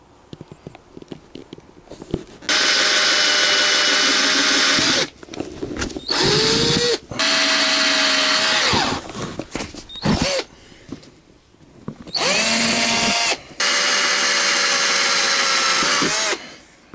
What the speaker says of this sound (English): marked out the holes, and I'll drill them and mount it